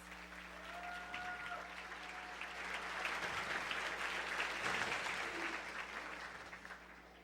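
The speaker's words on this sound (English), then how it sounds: "please stand and let's give them a great big round of applause." Warm applause from an audience honoring school board members at a county government address, a steady wash of clapping that swells in the middle and tapers slightly, heard from within the hall.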